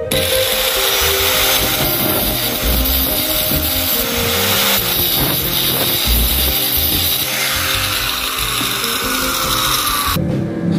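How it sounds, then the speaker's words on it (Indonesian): A power grinder smoothing drilled holes in a metal gutter whines continuously at close range, its harsh buzzing steady throughout with slight shifts in pitch as it works against the metal. "Bekasnya bor ini digerenda,"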